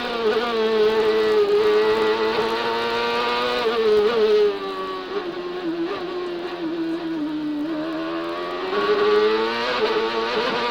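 CART race car engine heard on board during a qualifying pole lap at Mid-Ohio in 2002, a loud, continuous high-pitched whine that rises and falls with gear changes and throttle, with no talk.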